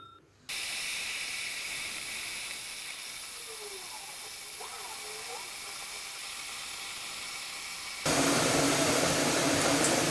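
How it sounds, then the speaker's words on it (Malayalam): A wooden piece is dropped into boiling water and gives off a loud, steady steamy hiss. The hiss runs throughout and swells sharply louder near the end. "നമുക്കപ്പം ഇത് തിളച്ചുവെള്ളത്തിൽ ഇടാം."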